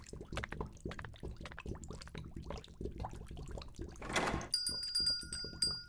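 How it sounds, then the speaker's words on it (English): After a stretch of soft, scattered knocks and clatter, a bell rings out near the end with a sustained, ringing tone following a brief rushing noise. "Oh yeah, I hear the bell ringing."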